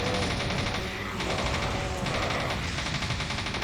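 Submachine gun firing continuously in the Doom 2 WAD Fallout: Vault 666, a dense rapid stream of shots with almost no gaps, loud and close throughout.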